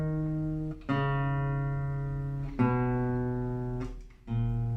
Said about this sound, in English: if you heard a bass line like this